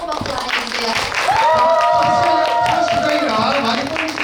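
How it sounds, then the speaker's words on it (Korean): Indoor crowd at a shrine members' training event clapping in a steady, loud wash, with a sustained tonal whoop or cheer rising over it midway and voices mixed in. "여러분 뜨거운 박수 보내주세요."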